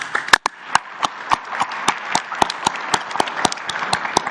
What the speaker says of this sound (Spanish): un aplauso, ¿no? Un aplauso.